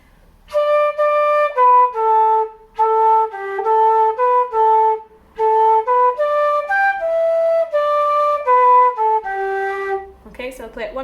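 A flute plays the fourth line of a traditional tune alone, a clear run of bright melodic notes with short breaths between phrases, close and steady, ending with a brief noise.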